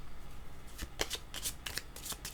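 Playing cards shuffled by hand, a series of quick riffling bursts in uneven rhythm, close and moderately quiet, with no voice over them.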